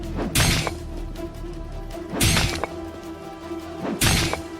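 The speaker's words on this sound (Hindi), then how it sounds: "लॉक पर पत्थर से वार करना शुरू किया" A large stone repeatedly strikes a door lock: three heavy, sharp impacts spaced about two seconds apart, each a loud crashing clang over a low steady background hum.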